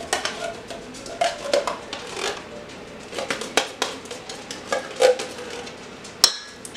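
A whole can of cream of mushroom soup is dumped into yellow squash for a cheesy casserole, giving a series of close, soft scrapes, taps and clatters with a sharper knock near the end, and no talking.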